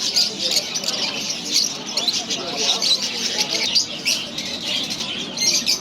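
Caged songbirds for sale at the Souq Waqif bird market in Doha, Qatar, keep up a dense, continuous chorus of high chirps and tweets over a low market murmur.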